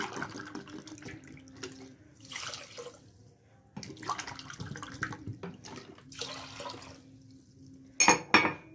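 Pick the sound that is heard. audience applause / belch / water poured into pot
water poured into pot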